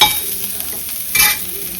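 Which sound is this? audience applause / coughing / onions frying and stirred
onions frying and stirred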